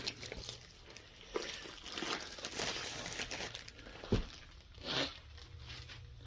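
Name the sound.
plastic package of a diamond art canvas being torn open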